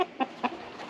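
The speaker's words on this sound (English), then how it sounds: "This is the rooster that I picked out of all of mine to keep for a breeder." Three short clucks in quick succession from a rooster kept as a breeder, held close by, each a brief nasal burst, with a softer trailing cluck at the end.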